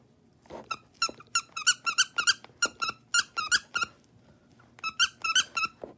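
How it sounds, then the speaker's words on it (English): Pink Among Us plush toy squeezed repeatedly, giving bursts of sharp, high-pitched squeaks in quick irregular runs with short pauses, loud and close with no voices. "Of course, the squeaks."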